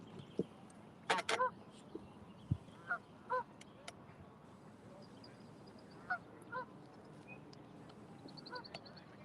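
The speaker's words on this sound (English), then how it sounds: "That lab's chasing the ducks." Ducks honk and quack in short scattered bursts, a few calls close together then sparse single cries over quiet outdoor background, while a Labrador chases them near the water.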